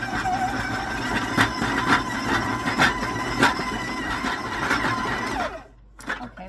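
An electric mixer creams butter and sugar in a bowl with a steady whirring drone and rhythmic thumps of the beaters, close by, then cuts off abruptly near the end.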